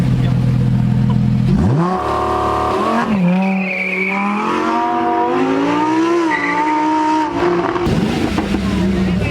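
Lamborghini Huracan STO spinning a donut, engine revving hard with wavering pitch while tires skid and squeal for several seconds, fairly close and loud.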